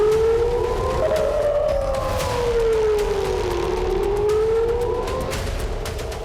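An air raid siren wails across an Israeli city, its tone slowly rising and falling in long sweeping cycles, loud and steady with faint background noise.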